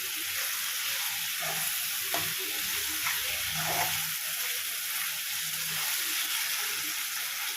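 Tomato masala for chicken fry cooks on a low flame in a pan, a steady soft sizzle and hiss with occasional gentle stirring scrapes, close and continuous with no talking.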